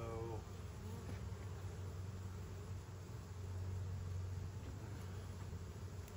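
Honeybees buzz around an open beehive during an inspection, a steady low droning hum close by and fairly faint, with no talk.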